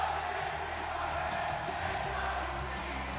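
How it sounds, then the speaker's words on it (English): Video game arena crowd in WWE 2K26 singing along to Randy Orton's entrance theme, a steady dense roar of many voices with cheering and whoops, continuous throughout at even loudness. "hearing that crowd belt out his theme, and he's loving it."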